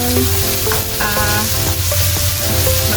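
Tomatoes sauté in a hot pan for a long cook, giving a loud, continuous sizzle with scraping stirring sounds running close and steady.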